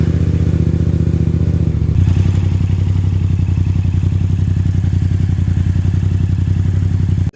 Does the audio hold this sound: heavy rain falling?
no